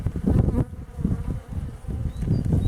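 A dense, steady buzzing of Buckfast honeybees, close and loud, swelling and dipping slightly as the swarm moves.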